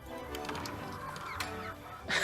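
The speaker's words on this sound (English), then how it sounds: "Okay, chickens, come and get it." Chickens cluck softly in a farm-style video game, a steady, mid-loud stretch of bird calls layered over continuous game music and background effects.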